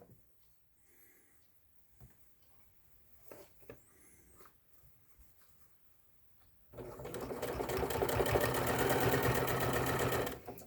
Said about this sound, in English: you want to stitch this, top stitch this at about 1/8 of an inch